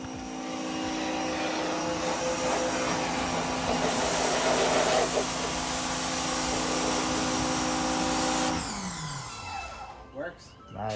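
A wall-mounted Greenworks pressure washer runs with a loud, steady whooshing roar outdoors, then cuts off near the end, leaving quieter background sounds.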